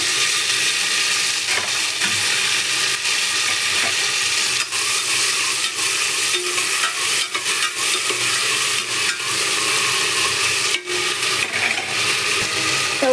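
Tomatoes frying in a hot pan with salt while being stirred, a constant sizzling hiss broken by repeated scraping and clatter of the spoon against the pan.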